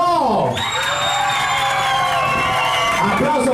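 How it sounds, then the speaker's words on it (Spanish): A crowd on a yacht cheers loudly for a contestant, with long sustained whoops and shouts over a noisy background of chatter, continuous and close throughout. "El aplauso para el número"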